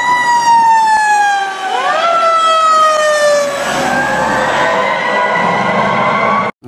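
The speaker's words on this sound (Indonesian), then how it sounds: "Wih, pemadam kebakaran." A loud electronic toy fire-engine siren sounds up close. Its sustained tones slide and shift in long sweeps, and then it cuts off abruptly.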